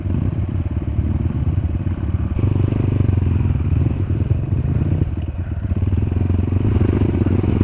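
A motorcycle struggling on a rough, steep trail with lowered tyre pressure runs a loud, close, steady engine drone with chugging pulses and slight shifts in load.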